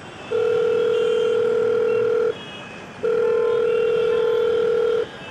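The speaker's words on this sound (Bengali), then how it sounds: "বেশ কিছুক্ষণ বাজার পর সুরজিৎ ফোন ধরল" Two long ringback tones sound on a telephone call as it rings at the other end, each lasting about two seconds and separated by a short silence.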